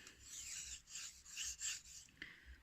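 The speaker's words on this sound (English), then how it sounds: "what I like when sharpening is I put the knife on the stone" A cheap knife is drawn across a cheap whetstone in repeated rasping strokes, about six scrapes in a steady back-and-forth rhythm, close and fairly quiet with no talk.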